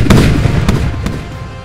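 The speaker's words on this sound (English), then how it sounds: "Every time that the guns shoot and I hear that bang, it makes me feel great" A Bofors 57mm naval gun fires during a functional check, giving a loud, booming blast with a couple of sharper cracks in quick succession and a rumbling tail.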